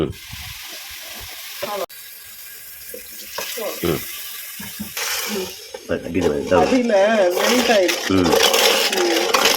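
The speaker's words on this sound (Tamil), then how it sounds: "முழுகிற அளவுக்கு தண்ணி ஊற்றிக்கலாம்." Water pours steadily onto three cups of sugar in a pan for peanut coconut burfi, a running splash under someone speaking in a home kitchen.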